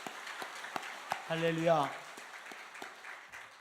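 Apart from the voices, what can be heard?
congregation applauding in church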